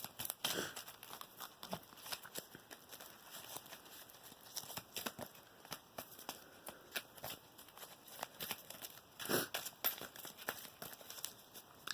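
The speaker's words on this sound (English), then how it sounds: "we're going to go ahead and shuffle up a deck" A deck of Yu-Gi-Oh trading cards shuffled by hand up close, a quiet series of crisp riffling bursts and soft slaps repeating in irregular rhythm, with no talking.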